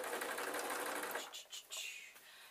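A sewing machine runs in a steady whirring burst while stitching a spider soft toy, then slows into a few short stutters and stops, close and fairly quiet.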